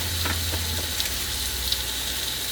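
Food sizzles and fries in a hot pan, a steady close crackling hiss with small pops scattered throughout, no voices over it.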